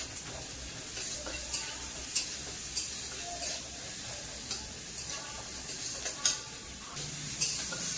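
Onions with a spoonful of salt sizzle steadily in a pan, with soft scraping stirs and occasional clicks of the spoon against the pan; no talking.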